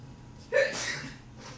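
A single quick sneeze, faint and close, bursting out sharply and trailing into a breathy exhale over quiet room tone.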